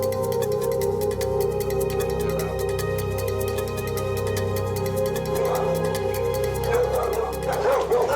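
Six dogs guarding a property in Bulgaria bark and yip during a police raid, the barking rapid and overlapping, mixed into a constant dense rumble of background noise.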